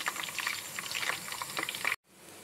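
Aloe vera pieces bubble and fizz while boiling in oil for a homemade body oil, giving a continuous close crackling sizzle that cuts off abruptly near the end.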